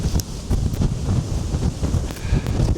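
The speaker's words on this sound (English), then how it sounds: "Can't believe these gusts." Strong gusts buffet an exposed gritstone edge at Stanage Edge, a roaring, rumbling wind with repeated surging bursts and microphone buffeting, loud and close throughout.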